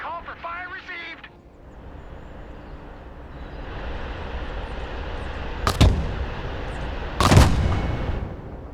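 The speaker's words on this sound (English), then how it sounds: "Mortar ready to fire." Mortar fire in the real-time strategy video game Broken Arrow: a radio voice speaks briefly at the start over a low rumbling battlefield bed, then two sharp, loud launch booms sound a second and a half apart.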